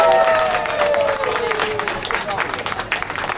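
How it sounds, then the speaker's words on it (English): Applause and cheering from a crowd at a Camden traffic warden strike rally, a continuous rough patter of many hands with a raised voice over the start and crowd chatter mixed in. "So give yourself a round of applause"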